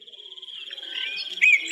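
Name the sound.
crickets chirping at dusk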